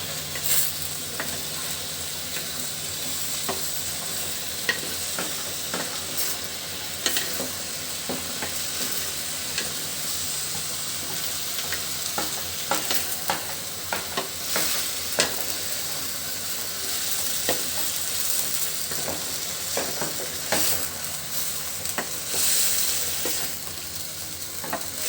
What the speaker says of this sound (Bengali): মশলাটা এখন শাকের সঙ্গে উপর নিচ করে দিব